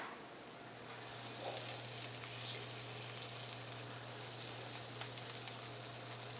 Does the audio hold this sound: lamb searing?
yes